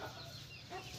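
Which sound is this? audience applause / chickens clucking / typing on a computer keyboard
chickens clucking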